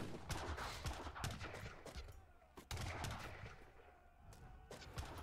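Cazadores units fire in an Age of Empires III battle, an irregular string of musket cracks and volleys layered over a busy, fairly quiet combat din.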